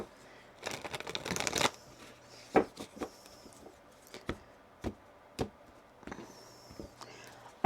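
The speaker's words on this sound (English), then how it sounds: "Let me shuffle this one more time." Tarot cards are shuffled in a quick riffling burst, followed by a series of separate soft taps and knocks as the deck is handled, close and fairly quiet.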